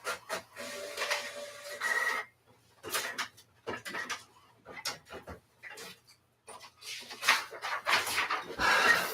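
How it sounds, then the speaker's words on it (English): A home printer runs off a page in a live-stream setting, giving bursts of mechanical whirring and feeding noise separated by short pauses over about nine seconds. "Oh yeah, okay, here it's printing out."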